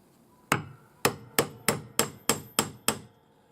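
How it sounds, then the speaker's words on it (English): A ring hammered to size with the flat face of a hammer while forging an opal ring: eight sharp, close metallic strikes in a steady rhythm, each ringing briefly before the next, with no talking. "we're just hammering to size at this point"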